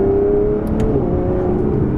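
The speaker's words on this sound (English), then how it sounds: "you can really hear that 177 derived exhaust system crackling" Aston Martin Vanquish with a 177-derived sport exhaust, driven hard in sport mode, holding a loud, steady engine drone with a brief crackle near the start, close and continuous with no talk.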